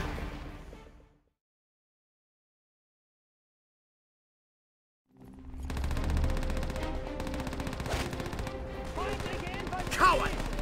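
Gunfire in the World War II shooter game Call of Duty: World at War, a dense, continuous stretch of shots and battle noise that starts after a silent gap, with a louder burst near the end.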